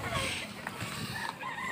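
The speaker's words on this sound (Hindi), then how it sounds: "मुर्गा लड़ाई चल रहा है, बहुत सारे मुर्गा हैं।" Roosters crow and cluck amid a dense, noisy crowd murmur at a cockfight during an outdoor fair, the birds' calls faint and tangled in the din.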